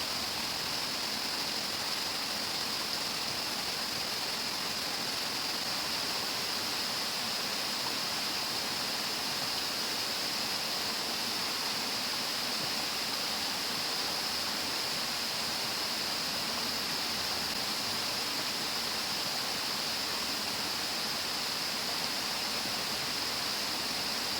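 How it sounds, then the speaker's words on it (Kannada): A waterfall roars in a natural setting, a dense, continuous rush of falling water that holds at a constant level for the whole stretch, with no voices over it. "ನಿಸರ್ಗದ ಮಡಿಲಲ್ಲಿರುವ ರಮಣೀಯವಾದ ಈ ಜಲಪಾತ"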